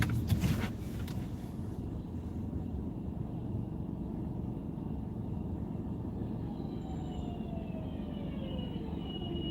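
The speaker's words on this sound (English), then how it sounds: "There's our buses that sound like spaceships now." Buses pass along a street at night, giving a sustained whooshing engine drone with rising and falling electric whines, steady and fairly near, with a brief clatter at the start.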